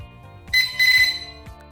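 Short electronic beeps from an LED clock-stopwatch panel timer marking ten seconds, a brief tone followed by a longer pulsed beep, sounding clearly over a quiet background.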